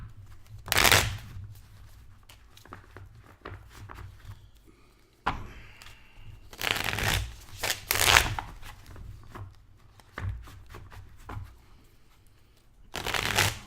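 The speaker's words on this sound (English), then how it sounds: "It was a terrible shuffle." A deck of Magic the Gathering cards shuffled in several separate bursts, with quiet gaps and soft tabletop thumps between riffles, close and moderately loud without speech.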